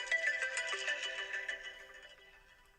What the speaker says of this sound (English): And the other one is the ring mode. So I believe you're able to hear that pretty loudly.